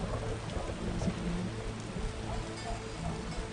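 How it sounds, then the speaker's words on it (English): Heavy rain pours down in the video game The Witcher, a dense, steady hiss of water drumming on surfaces with low rumbling underneath and no voices. "What a downpour!"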